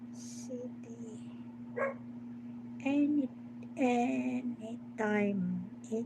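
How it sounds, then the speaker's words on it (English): A dog barks repeatedly in short, sharp bursts with yips and whimpering tones, fairly close, over a steady electrical hum while people talk nearby. "I don't like the dog. Keep on barking."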